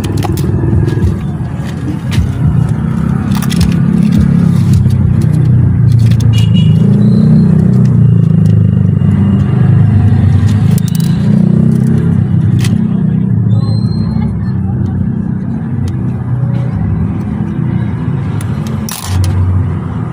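A car engine runs steadily and loudly with a low rumble throughout, in a repair shop setting, with occasional clicks and scrapes over it and no clear starting moment.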